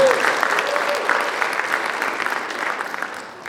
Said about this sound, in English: Let's have a round of applause for Kaysen